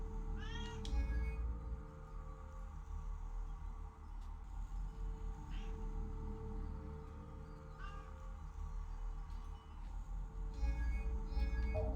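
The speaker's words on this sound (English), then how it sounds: "And now the cat's coming to bother me." A domestic cat meows repeatedly in short, separated calls, faint and fairly close over a steady low hum from a computer game playing in the room.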